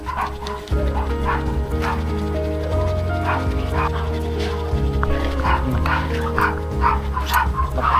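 Several dogs bark and yip, with some whimpering, in a near, busy back-and-forth chorus over a low steady hum, while a person talks intermittently.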